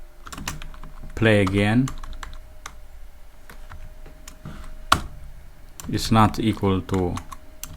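Fingers type in bursts on a computer keyboard while coding in Python, a close, rapid clatter of key taps mixed with a person speaking over and between the keystrokes.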